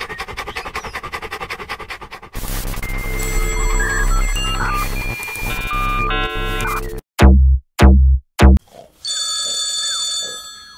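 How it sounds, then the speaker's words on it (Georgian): A telephone rings in an animated cartoon, heard amid busy music and effects, then several loud, sharp, separate sound-effect hits and a final electronic trill, close and prominent with no talk. "როგორ დამღალა უკვე ამ ტელეფონმა და?"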